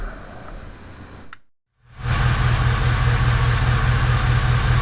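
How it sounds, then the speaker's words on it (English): A truck engine cranks and starts after a brief silence, then runs loud and steady close by with a rough, uneven low throb from a cylinder misfire. "I'm going to go and start up the truck and we're going to watch these numbers pop up"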